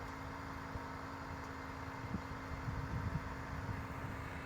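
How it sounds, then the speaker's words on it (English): The air suspension pump of a Mercedes GL450 runs as a steady, low mechanical hum with a constant tonal whine, quiet and continuous throughout, with small knocks and rattles near the end. "You could probably hear this pump running at the front."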